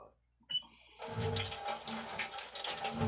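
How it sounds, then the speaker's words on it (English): Hands are washed under a running tap, a steady, close rush of water starting after a brief quiet moment and continuing evenly to the end. "I'm gonna wash my hands."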